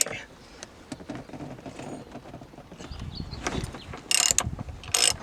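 Ratchet with a 14 mm socket loosening a car seatbelt bolt during a seat swap, producing irregular close clicks and mechanical rattles, with louder bursts near the end and no speech.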